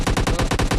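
Rapid automatic gunfire from a battle royale video game, a tight burst of about seven evenly spaced shots within under a second, loud and close.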